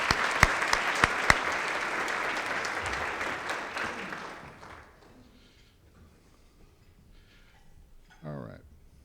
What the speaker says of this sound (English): Another big round of applause for Barbara.